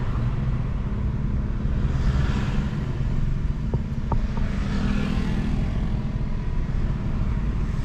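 Steady road traffic of cars and motorcycles rumbles continuously, a broad engine and tire drone with passing vehicles swelling and fading, heard without talk.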